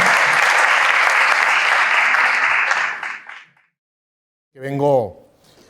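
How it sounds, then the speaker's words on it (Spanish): Audience applause welcoming a speaker at a youth leadership talk: loud, dense clapping for about three seconds that fades out, then a brief spoken voice after a pause. "Le damos un aplauso"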